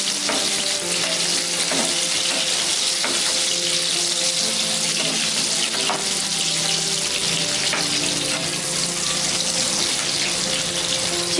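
Onion pieces frying in hot oil for chicken 65, a steady loud sizzle with crackling spatter that runs unbroken throughout, with no voices.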